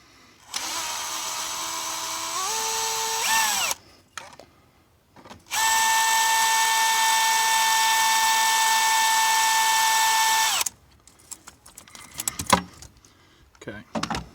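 A power tool whines in two long sustained bursts with a pitch step, then rattling metallic clicks and clanks follow, loud and close while an 11mm deep socket works a bolt loose on a Duramax intercooler line.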